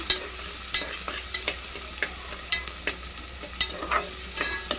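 Onions for egg biryani cook in a pan, a steady soft sizzle under repeated sharp scrapes and knocks of a spoon stirring them, with no voices.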